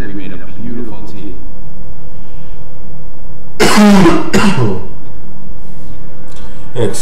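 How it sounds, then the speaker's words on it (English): A man coughs loudly several times in a short burst while playing a PS2 game on a CRT TV, with his talk before and after the coughs. "Excuse me once again, I'm sorry for coughing."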